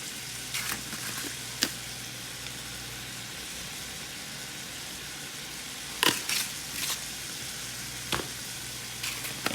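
Seasoned chicken for hibachi cooking in a pan, a quiet steady sizzle running underneath, with a few sharp clinks and scrapes of stirring near the start and again in the middle and end.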